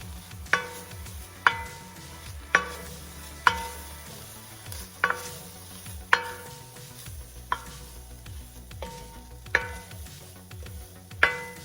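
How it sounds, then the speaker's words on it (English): Spices including cumin, turmeric and curry sauté in a pan with a soft steady sizzle, while a utensil scrapes and stirs at a regular rhythm, producing sharp periodic clicks about once a second, close and fairly quiet, with no talking. "we're going to saute this for a couple minutes till it becomes aromatic"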